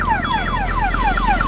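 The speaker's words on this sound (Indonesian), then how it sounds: "Ini alarm berbunyi terus ini" Anti-theft alarm on a Honda PCX 160 motorcycle, a loud repeating electronic chirp that sweeps downward about every quarter second and continues without a break, with no voices.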